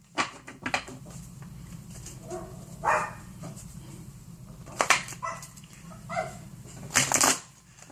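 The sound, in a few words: dogs barking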